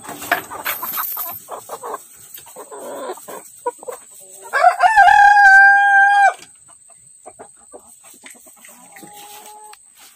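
Chickens, a Malay ayam gajah breed crossed with Arab chicken, cluck softly nearby, then a rooster crows loudly for a couple of seconds before the quieter clucking and scratching resumes.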